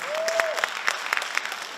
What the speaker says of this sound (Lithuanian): 3, 4 ir audringi plojimai salė